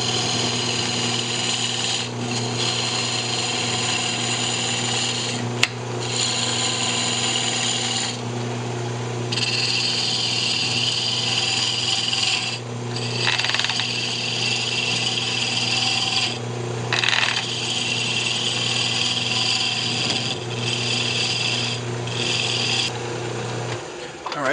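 A woodturning lathe hums steadily while a tool cuts down the diameter of a turned lidded box lid, giving a continuous scraping, rasping whir with brief dips where the cut eases off.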